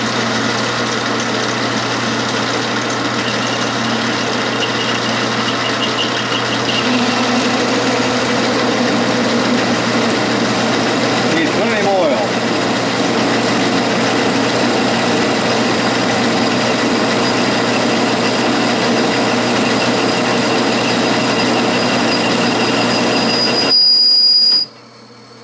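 An Atlas metal lathe turning at 350 RPM on power feed with plenty of cutting oil gives a steady close mechanical whine and hum with a faint shrill cutting tone, running continuously before stopping abruptly at the end.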